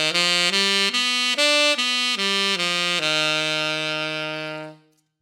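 A major sharp 5 altered pentatonic scale, played over the 2 chord as a run of about seven even notes, then a final note that sustains and fades out, clear and alone with no talking.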